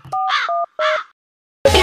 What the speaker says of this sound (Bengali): ফোন দিতেছি, দাঁড়ান।